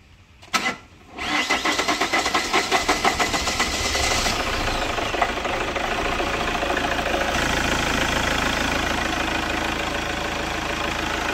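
Chevrolet Captiva diesel engine in a workshop during an overhaul, cranking briefly before catching and settling into a steady, loud, clattering idle with a rhythmic diesel knock.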